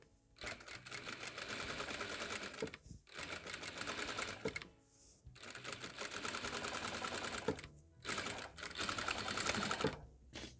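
A sewing machine stitching a seam on a fabric toy bunny, running in steady, rapid whirring bursts up close with short pauses between runs and no voice over it.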